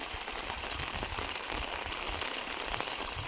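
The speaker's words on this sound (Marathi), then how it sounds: "पाऊस आला त्याच्यातून हा बघा पाऊस यायला नाही पाहिजे" Steady rain falls continuously, a dense hiss of drops pattering on a surface, with no voices.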